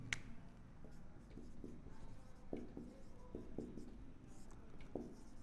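An equation written by hand during a maths lesson, with faint scratchy pen strokes and soft taps spread across a quiet background.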